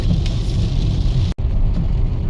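Steady road noise from a car driving on Snæfellsnes, Iceland, out of rain into lighter weather; a continuous low rumble fills the cabin with one brief dropout midway.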